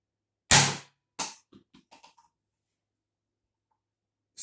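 A modded Nerf Rival Knockout blaster chambered for Mega darts fires one sharp, close pop, followed by a thud of the dart striking and a few faint bounces as it settles, then near silence before a final click.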